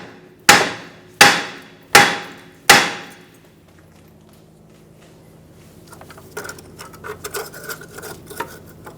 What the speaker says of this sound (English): This will protect the bolt if we hit it with a hammer.